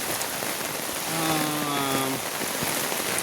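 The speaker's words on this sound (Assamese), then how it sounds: "এই বৰষুণ পৰিছে" Rain pours steadily on an overcast monsoon day, an unbroken hiss of drops, with a brief tonal sound, maybe a distant call or horn, rising midway and fading, no speech.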